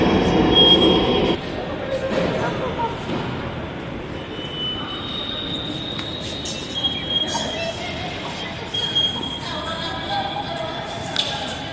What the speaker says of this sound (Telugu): ఏంటి ఎన్ని ట్రైన్లు వస్తున్నాయి అబ్బా?